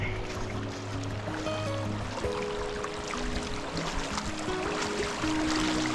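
Water in a creek in Idaho's wilderness rushes and trickles steadily around someone wading, a dense, close wash of flowing water with faint tonal bits drifting through.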